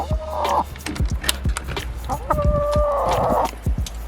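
Chickens cluck and squawk nearby, with two drawn-out calls standing out among scattered clucks and clattering noises.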